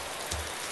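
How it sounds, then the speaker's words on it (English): Rain in the DayZ video game falls as a steady dense hiss, continuous and close throughout a brief moment with no talk. "Fucking rain. Stop! Rain! Stupid weather!"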